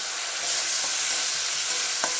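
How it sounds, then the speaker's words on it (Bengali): Spices sautéing in hot oil for a potato and pointed gourd curry give a steady, close sizzle, with a couple of brief stirring scrapes and no talk. "এখানে মশলাটা কষা হচ্ছে, আলু পটলের তরকারি।"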